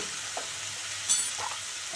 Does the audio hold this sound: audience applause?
no